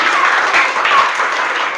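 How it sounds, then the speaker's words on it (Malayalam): Students in a career guidance class applaud together, a dense, steady burst of clapping sustained throughout at close range. "പിടിച്ചോ, കൈയടിക്കട"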